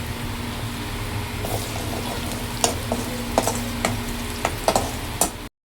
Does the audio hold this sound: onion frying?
yes